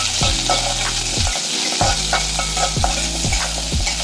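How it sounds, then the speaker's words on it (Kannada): Onions frying in hot oil for chicken biryani, a constant close sizzle punctuated by regular scraping strokes of a ladle stirring through the pan, roughly once every half second. "ಈರುಳ್ಳಿ ಹಾಕೊಂಡು ಸ್ವಲ್ಪ ಕೈ ಹಾಕ್ತೀನಿ."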